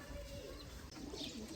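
Chapda pigeons from Pakistan coo softly, a faint low throaty murmur over steady background hiss in a short stretch.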